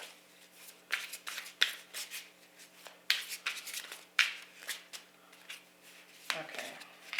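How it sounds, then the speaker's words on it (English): A tarot deck laid out on a table, with quick sharp card slaps and flicks arriving in an irregular rhythm, close and fairly quiet over a faint steady hum. "I'm going to get this other deck laid out here quickly"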